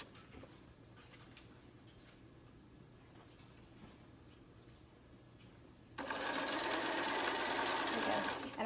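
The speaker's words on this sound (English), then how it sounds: "So, okay, so we got zigzag stitch. I'm gonna do a little back stitch and then I'm gonna keep sewing down the rest of this side." A sewing machine zigzag-stitches a wool felt zipper pouch, starting with a quiet, faint mechanical background and then bursting into loud, rapid whirring stitching for the final few seconds.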